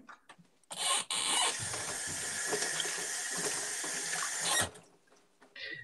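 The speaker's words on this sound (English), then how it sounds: "I turned on the water" A bathroom water tap runs while hands are rinsed, a steady close hissing stream lasting about four seconds between clunks as the tap is turned on and off.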